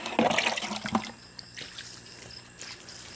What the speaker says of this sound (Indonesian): Kita siram lagi sampai asapnya benar-benar hilang.